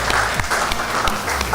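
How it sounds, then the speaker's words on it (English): Applause breaks out for an Aston Martin New Vantage launch in a car showroom, a brief, steady wash of clapping from a small crowd. "round of applause."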